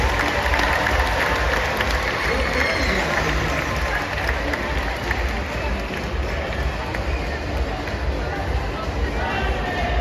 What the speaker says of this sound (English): How about one more round of applause for both our very brave and wet volunteers?